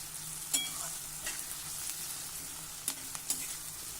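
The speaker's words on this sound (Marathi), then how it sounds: "कांदा एक मिनिटासाठी परतून झाला" Onion sautéing in a pan, a continuous close sizzle with a few sharp spoon scrapes and taps against the pan as it is stirred.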